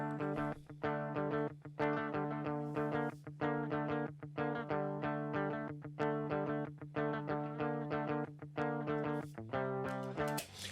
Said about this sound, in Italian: La diretta che cos'è? È il suono della chitarra senza alcun processamento,